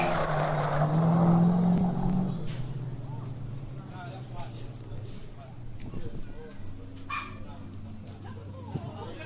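Drift cars battle through a corner at a MINI FAB Drift Series Pro-Am event, their engines a steady mid-distance drone that is loudest early on and then settles under a faint voice.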